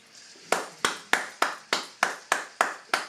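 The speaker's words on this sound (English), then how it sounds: "So I want to definitely give Joey Moreno, his round of applause." A single person claps nine times in a slow, even rhythm, each clap crisp and close, with near silence between the strikes.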